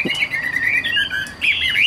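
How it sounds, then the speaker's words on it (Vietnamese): A caged songbird sings a close, bright run of rapid warbling phrases with a brief pause partway through. "chim sách lồng vẫn hót bình thường"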